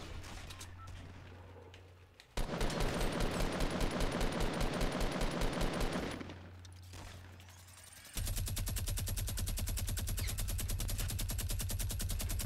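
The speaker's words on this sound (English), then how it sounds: "They're shotgunning each other." Rapid bursts of shotgun and automatic gunfire in a multiplayer shooter video game, loud and dense, in two sustained barrages separated by a brief quieter gap, with no talking.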